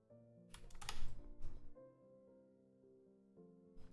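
A short, soft burst of computer keyboard typing, with a quick run of light key clicks over a faint sustained tonal hum before it settles back to quiet.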